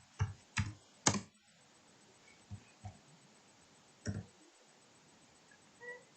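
Computer keyboard typing while entering a program for finding the greatest common divisor of two integers: a few sharp separate key clicks, then two or three more spaced out, fairly faint in a quiet room.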